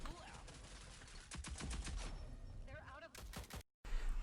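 Assault rifle fire in the shooter Rogue Company, bursts of rapid shots in close succession with game sounds and a voice mixed in, a brief dropout near the end before the firing resumes.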